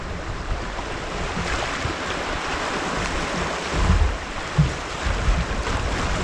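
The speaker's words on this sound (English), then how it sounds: "It's nicer just to steer off to the side of the standing waves." Rushing river rapids and standing waves surge around a canoe on a wilderness river in the far north, a loud continuous roar with wind buffeting the microphone and a few low thumps.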